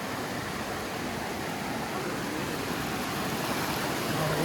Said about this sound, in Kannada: ಈ ನೀರು ಅಲ್ಲಿ ಹೋಗಿ ಬೀಳುತ್ತೆ.